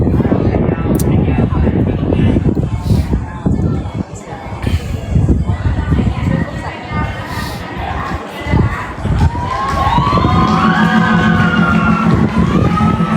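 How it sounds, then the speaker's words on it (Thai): Bang Yao supporters at a local football match roar and cheer steadily as a loud, dense crowd, with shouting voices and horn-like tones rising near the end. "กองเชียร์แบงยาวเสียงดีแท้"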